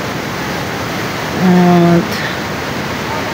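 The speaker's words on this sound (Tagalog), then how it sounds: "Ang lakas ng tubig na yan. Ang lamig. Kasi nga galing siya ng cave." Strong, cold water rushes out of a cave in a steady, loud broadband roar, with a person speaking briefly over the flow.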